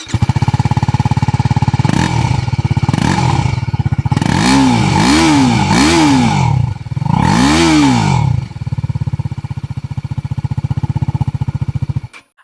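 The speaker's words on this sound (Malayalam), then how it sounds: "അപ്പോൾ ഇങ്ങനെയാണ് ഏറ്റവും പുതിയ RTR 310 എക്സോസ്റ്റ് നോട്ട് വരുന്നത്." TVS Apache RTR 310 motorcycle idling close by with a throbbing exhaust note, then blipped through several sharp revs that rise and fall, a final longer rev before settling back to a steady idle.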